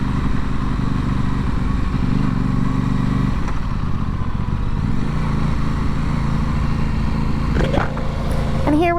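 Aprilia Tuono 660 motorcycle on the road near a small beach: steady loud engine drone with shifting pitch as it rides, wind rush underneath, continuous and close.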